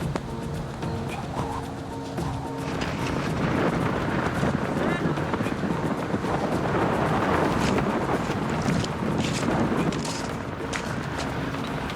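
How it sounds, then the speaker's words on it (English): A strong wind roars continuously against the microphone on a volcano, carrying gravel, gusting harder partway through, with gritty rustling and buffeting throughout and no voices. "You can hear the roar of the wind and the gravel being brought towards you."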